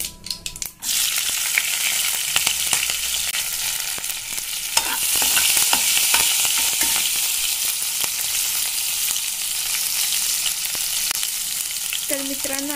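Chopped green chilli goes into a pan of dal and bottle gourd bhaji and fries, a bright sustained sizzle with stirring scrapes and a few knocks after an initial clatter.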